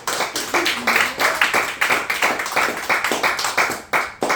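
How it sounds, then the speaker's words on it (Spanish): Church congregation clapping in unison, a steady rhythmic beat of many hands at about two claps per second, fairly loud and close, with faint voices underneath. "Un fuerte aplauso a Jesucristo."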